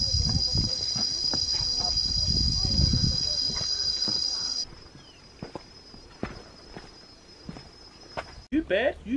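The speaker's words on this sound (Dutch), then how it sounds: "Het is een krekel op steroids." A very loud, continuous, high-pitched cricket drone at a scenic lookout in South Africa fills the first half, then fades abruptly, with people talking and walking throughout.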